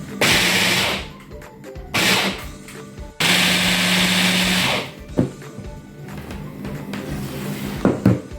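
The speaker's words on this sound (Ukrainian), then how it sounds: "І гарненько перекручую блендером." A blender purées vegetables for a spread, whirring loudly in three bursts, the last one longest, with short pauses between and some clinks after it stops.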